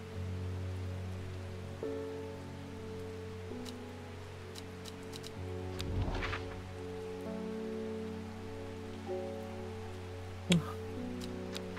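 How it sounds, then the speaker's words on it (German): Steady rain patters on a surface in the video game Strange Horticulture, with a low tonal background hum and a brief swell of louder noise midway. "Es regnet."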